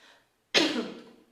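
A single harsh, close cough bursts out after a moment of near silence, then trails off slowly.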